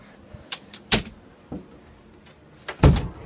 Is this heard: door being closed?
yes